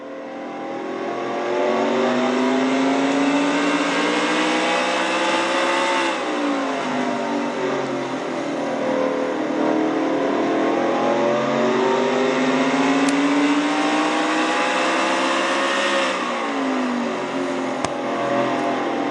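Race car engine revving hard through a lap at Martinsville in a Castrol GTX Cup Series oval race, heard onboard as a loud, continuous roar that rises and falls with each straight and corner, alone with no talk.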